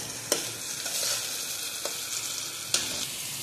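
Pumpkin and potato curry fries steadily in a pan, a continuous close sizzle broken by a few sharp scraping strokes of the spoon as it is stirred, with no one talking.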